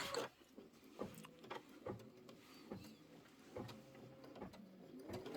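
Quilting sewing machine stitching a tack down at a quilt shop, a run of quick mechanical needle strokes with periodic clunks, close and fairly quiet, with no talking.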